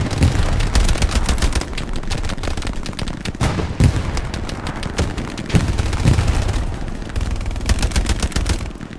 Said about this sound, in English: There's a guy, there's a machine gun.